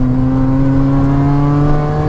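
A Mini Cooper S R53 engine pulls hard under acceleration, loud and close, its steady tone rising gradually with no voices.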